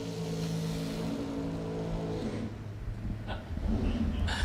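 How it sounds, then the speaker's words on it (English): A drag racing car at a bracket racing event holds a long burnout, its engine droning loudly and steadily with a sustained roar that shifts near the end. "I like the long burnouts."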